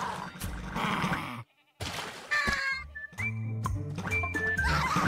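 Bleating goats in the video game Just Crow Things, several short nasal calls in a row among other game sound effects and musical tones, with a brief gap of silence near the start.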